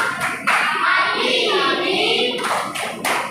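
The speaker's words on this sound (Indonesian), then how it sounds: "Ya baik, kita berikan tepuk terima kasih." Classroom thank-you clapping from students, a dense burst of many hands applauding together with children's voices mixed in, moderately loud and steady for a few seconds.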